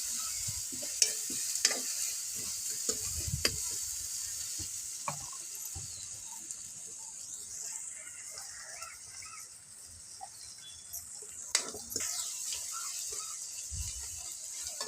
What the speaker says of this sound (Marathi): तळून घेते मिक्स झालं तळून त्याच्यात दोडका टाकते